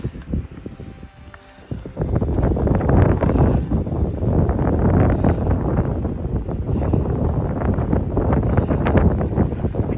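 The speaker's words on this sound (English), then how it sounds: "Wind's kicking up again." Wind gusts buffet the microphone on the Appalachian Trail during a thru-hike. A brief quieter stretch gives way to a loud, continuous rumbling roar that lasts to the end.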